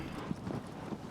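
Horse hooves clip-clopping in the PS4 game Shadow of the Colossus, a soft uneven patter of steps under wind-like rushing noise, fairly faint and without speech.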